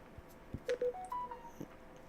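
A phone gives off a short run of electronic notification tones: several brief, clear beeps at different pitches in quick succession, quiet and close, with soft handling noise around them.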